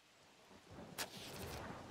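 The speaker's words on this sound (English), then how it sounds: "The looming clouds at last give out, showering the wagon in a constant blanket of rain." Thunderstorm and rain in The Oregon Trail video game: a soft hiss of steady rain with a low rolling rumble of thunder that builds, and a sharp crack near the middle, faint and distant.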